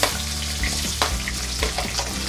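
Three medium onions go into hot oil already holding black and green cardamom, two cloves, cinnamon and bay leaf, sizzling steadily with occasional stirring scrapes, close up and with no talk.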